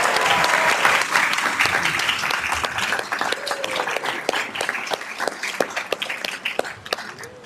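Attendees at a Sacramento City school board meeting give a congratulatory round of applause, dense clapping that starts full and thins into scattered individual claps toward the end.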